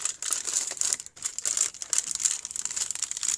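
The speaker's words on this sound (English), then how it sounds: "take your piece of wax paper and just press it down without, the glue sticking to your fingers and ripping things, and then just peel it back gently" Wax paper peeled gently back from a glued napkin in a stamp colouring craft, giving a close, continuous crinkling rustle with brief crisp tearing bursts and one short pause.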